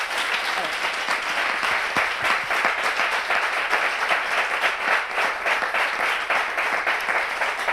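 A studio audience claps to welcome a guest onto an evening talk show. The dense applause stays loud and even from start to finish, with no voices over it.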